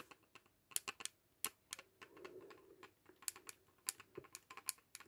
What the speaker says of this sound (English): Now listen, you'll hear the click.